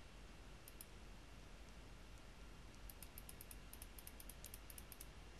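Faint, light clicks sound in small irregular clusters as a computer mouse works through a menu in SikhiToTheMax 2 software, over a quiet room hush with no talking.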